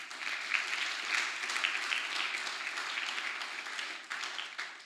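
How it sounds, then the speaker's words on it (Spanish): A church congregation applauds during a Sunday morning service, a steady wash of hand claps lasting several seconds before easing off, with no talk over it. "Y vamos a darles otro aplauso también."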